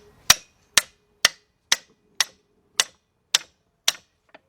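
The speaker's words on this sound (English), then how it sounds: "Get you a nice hammer" Eight sharp, evenly spaced metallic hammer blows strike a 1 1/4 inch wrench on the alternator pulley bolt of a BMW V8 (545i/645Ci/745i/X5 water-cooled alternator), close and loud, with a faint final tap.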